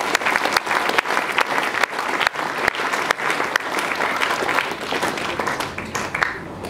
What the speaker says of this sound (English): So if we could give them a big round of applause.